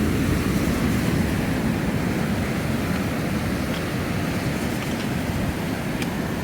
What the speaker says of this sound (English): can hear the ocean waves